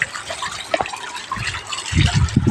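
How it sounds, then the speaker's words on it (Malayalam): Water from the hill falls below the stone steps of a hilltop Murugan temple, a soft rushing trickle that swells into louder splashing gushes toward the end. "ഇതാ താഴെ വെള്ളം വീഴുന്നുണ്ട്"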